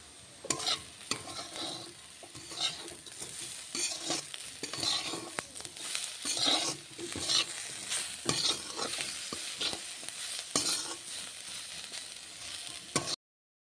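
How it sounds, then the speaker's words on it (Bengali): Chillies being stir-fried with a little sugar in a pan, with steady sizzling and frequent scraping stir strokes throughout, fairly close and continuous, no voices. "এবারে একটু চিনি দিতে হবে দিয়ে এবারে আবার ভাজতে হবে"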